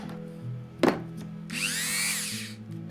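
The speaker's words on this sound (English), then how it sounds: "I have no idea why I'm using a saw or a scalpel when I've got my Dremel thingy." A Dremel rotary tool bites into a plastic miniature model, with a short sharp scrape followed by a second-long high whining cut, close and fairly quiet.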